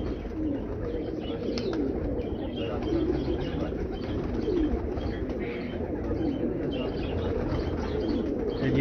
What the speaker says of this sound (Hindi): यहाँ पे काले मुंह वाले भी कबूतर मौजूद हैं, अली वाले कबूतर भी मौजूद हैं जी